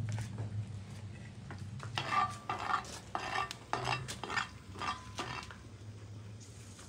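Salsa hits a hot skillet with a tablespoon of oil, giving a low sizzle under a series of scraping and clattering stirring strokes in uneven bursts, fairly quiet and without talk.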